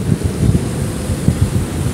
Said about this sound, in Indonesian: ini kondisi angin kencang guys, lumayan angin sore ini ya